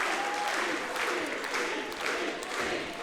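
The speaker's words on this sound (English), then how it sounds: "The crowd are chanting for it." A wrestling show crowd roars and cheers in a steady, dense wall of noise that stays loud throughout.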